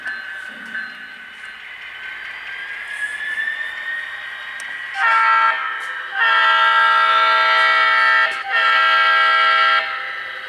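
Model railroad train running on a westbound main line, a faint steady hum followed by three loud, sustained horn blasts from a sound-equipped locomotive, each held for a second or two.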